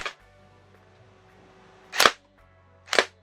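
Three sharp, snappy shots from a stock gun fired at a paper target ring out, the first at the very start, then two more about a second apart in a quiet space.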